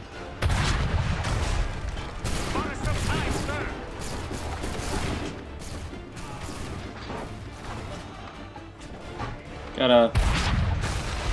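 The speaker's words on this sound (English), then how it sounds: "Kill two platoons at once with a single cannon." Cannons boom and crash in a battle in the video game Assassin's Creed 3 Remastered, with repeated heavy blasts and impacts throughout and a loud burst near the end, under someone talking.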